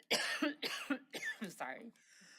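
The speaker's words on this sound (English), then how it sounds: "I'm sorry, I'm coughing" Several close coughs from a participant at a Tucson city council meeting, a run of sharp bursts coming quickly one after another on a microphone, then a faint room tone.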